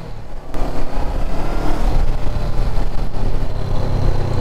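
A Honda CB500X motorcycle engine accelerates, a loud close rising engine roar that kicks in abruptly and holds with a throaty drone.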